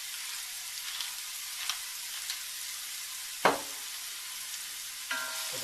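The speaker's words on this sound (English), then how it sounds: "Give it a good stir." Onions frying in a pan, a soft continuous sizzle broken by a few scraping clicks of a utensil stirring them, one sharper knock midway.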